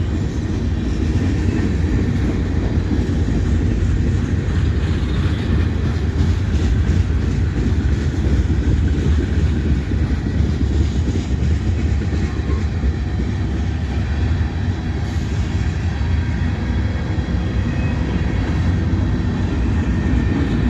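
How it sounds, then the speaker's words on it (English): A freight train over a mile long rolls past close by, its loud steady rumble and clattering wheels continuing without a break. "I say this train's probably over a mile long."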